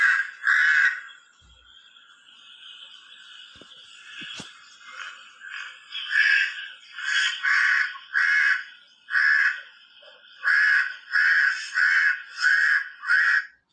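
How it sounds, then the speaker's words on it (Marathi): Crows caw in a harsh, rasping series: a couple of early calls, then a run of about a dozen evenly spaced, loud caws close by, with no talking. "आता हा कावळ्याचा आवाज जो आहे तर तो आपण ऐकला"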